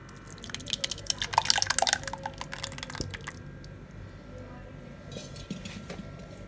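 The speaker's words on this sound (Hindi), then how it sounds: "अब इसको हम अच्छे से छान लेंगे। छानने के लिए ये मैंने छन्नी ली है।" Mashed bael fruit shake is strained through a sieve in a kitchen. The first half has wet dripping, sloshing and clinking against the sieve and bowl, which then quiets to faint drips and a few soft scrapes, with someone talking over it.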